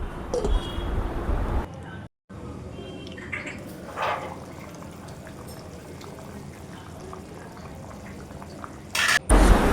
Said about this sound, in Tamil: இப்போ குழம்பு நல்லாவே கொதிக்க ஆரம்பிச்சிருச்சு.